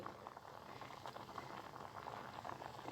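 Milk for a rava dessert simmers in a pot with cardamom, giving a faint, steady bubbling and soft popping patter throughout, with no talking.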